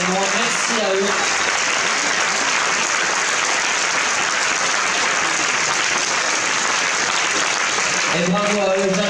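A crowd applauds the volunteers at the Bol d'Or 2016 prize ceremony in Geneva, a dense, loud, continuous wall of clapping with brief voices from the announcer at the start and end.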